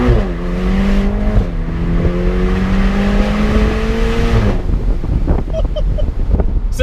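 A Ferrari Portofino engine accelerates hard through its gears, a loud rising roar with a quick shift near the start, then falls off into buffeting wind noise as the throttle lifts.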